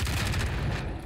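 Grenade blast in a Warzone ranked match, a single loud low boom with a rumbling tail, close and filling the short moment.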